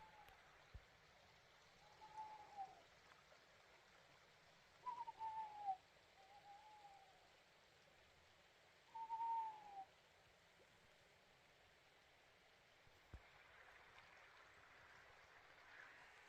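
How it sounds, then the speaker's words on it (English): Owls hoot far off at night in a quiet Lake District valley near Sadgill, a few faint, separate calls spread over about sixteen seconds above the soft, steady murmur of a brook. "and plenty of owls in the distance."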